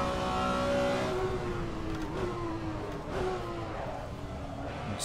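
BMW M1 Procar race car engine from a racing simulator game, a sustained, strong harmonic whine that slowly drops in pitch across several seconds as revs fall through a gear, with brief gear-shift blips and no talking.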